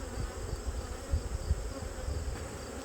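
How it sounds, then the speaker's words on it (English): Angry honey bees buzz around an open hive in autumn, a dense, continuous drone from many insects close by with no talk. "I made these bees pretty mad, so they are not happy"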